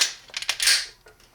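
The trigger of a Lone Wolf Dusk 19 pistol is worked through reset, giving a quick cluster of sharp, close metallic clicks and snaps in a quiet room.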